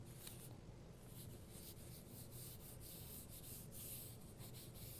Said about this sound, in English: laying it down on the side and just kind of rubbing it